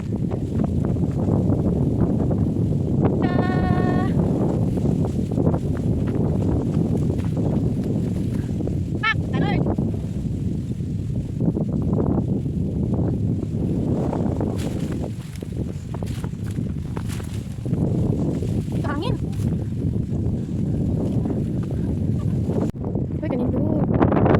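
Mountain wind high on Tai Mo Shan in Hong Kong roars steadily into the microphone as a deep, constant buffeting rumble, with people talking intermittently over it and occasional footsteps on the trail.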